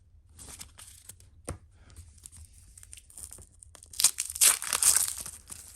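1991 Pacific NFL card foil packs being torn open: sharp crinkly rips and crackling foil, sparse at first, then building into a dense burst of tearing up close.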